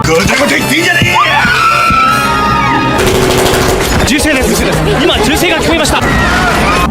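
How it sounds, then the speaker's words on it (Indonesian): Gunshots inside an airplane: loud, chaotic bursts of sharp bangs amid shouting and crowd noise, with a sustained roar of voices and sudden impacts throughout. "Ketegangan meningkat ketika suara tembakan terdengar di dalam pesawat."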